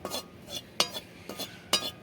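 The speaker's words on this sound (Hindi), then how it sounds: "बिल्कुल हल्के हाथ से हमें मध्यम आंच पर बेसन को भूनना है" Dry gram flour (besan) being roasted over medium heat and stirred gently in a pan, heard as a few soft, spaced scrapes and utensil taps against the metal, close and fairly quiet.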